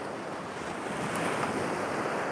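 Rough sea surf rolls continuously at Sam Roi Yot beach in Thailand, a close, steady wash of breaking waves mixed with wind buffeting the microphone, with no voices.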